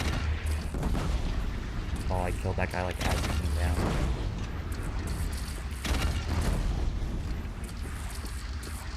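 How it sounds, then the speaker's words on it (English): Cannon fire booms during a fight against bandits in the video game Horizon Zero Dawn, set within dense, loud battle noise. Someone talks over the repeated heavy blasts. "you see what that cannon's doing, right?"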